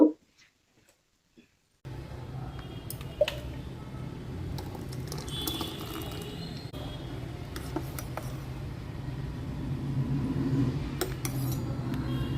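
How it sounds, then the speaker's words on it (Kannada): Freshly ground coconut-free, hotel-style chutney is shifted from the grinder into a vessel, with scattered metallic clinks and scrapes of a spoon against the containers after a short quiet start. "ಈಗ ರುಬ್ಕೊಂಡ್ ಬಂದೆ ಈ ಪಾತ್ರೆಗೆ ಶಿಫ್ಟ್ ಮಾಡ್ಕೊತಾ ಇದ್ದೀನಿ"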